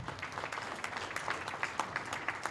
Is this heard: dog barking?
no